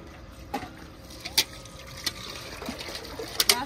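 Water from a household motor pump splashes into a bucket, with irregular gurgles, drips and sharper splash hits over a constant background wash.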